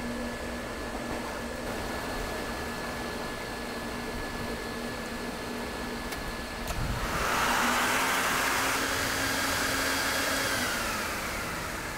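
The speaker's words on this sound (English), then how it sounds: "the vacuum then is under the rug, pull everything through the rug, and everything's go through the tube" A vacuum draws dirt through a silk rug from underneath during professional rug cleaning. Its steady airy whoosh runs throughout and grows louder and harsher about halfway through, with no talking.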